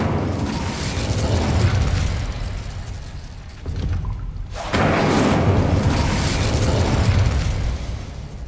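Incendio fire spell cast in a Hogwarts wizarding game, a roaring whoosh of flame with bursting booms, loud and sustained, dropping off briefly before surging again.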